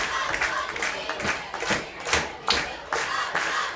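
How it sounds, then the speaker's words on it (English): Crowd stomping on metal bleachers at a high school football game between Paola and Fort Scott, a run of irregular heavy thuds and rumbles with crowd noise and some clapping mixed in. "Getting excited, stomping the bleachers a little bit as our scoreboard shaking just a little bit down there."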